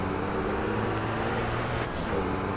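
Truck engine from the racing game Formula Truck 2013 on the Nordschleife, a steady loud drone with low rumble and a faint high whine, continuous and without talk.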